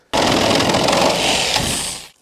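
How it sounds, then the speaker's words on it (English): A single loud, close burst of a jigsaw cutting a metal van panel, buzzing steadily for about two seconds, then cutting off abruptly. "So now I'm going to use the jigsaw and just tidy up these little bullet holes"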